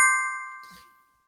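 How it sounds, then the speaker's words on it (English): A bright notification bell rings once with a clean metallic tone that rings out and fades over about a second, followed by a brief soft rustle. "Ring that notification bell."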